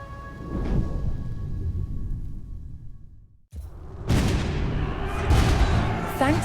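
Cannon fire in the Age of Empires 4 video game, heard as heavy booming blasts and rumbling explosions. A sharp cut leads into louder, denser bursts of artillery in the second half.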